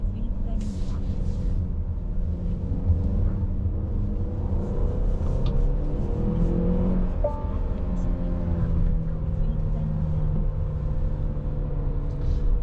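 A Cadillac XT4 luxury SUV climbing a hill road, heard from inside the cabin as a steady low engine and road rumble, with someone talking over it throughout.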